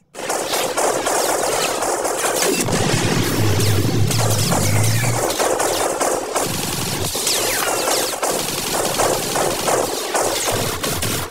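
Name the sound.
gunfire in a film shootout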